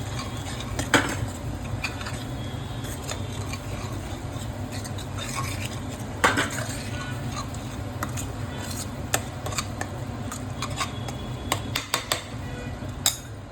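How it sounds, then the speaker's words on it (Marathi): Mutton masala roasts in oil in a pan, giving a low continuous sizzle. A spoon stirs it with repeated scraping and occasional metallic clinks against the pot. "आता ह्याला तेल सुटोस्तर चांगलं भाजून घ्यायचं"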